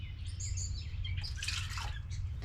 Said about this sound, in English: Hope you don't mind all the birds singing.